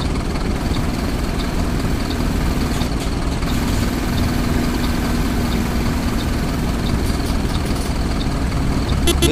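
Mercedes-Benz OF-1721 diesel engine on a 2007 Marcopolo Torino city bus, idling with a steady low rumble throughout, close and loud, with people talking over it.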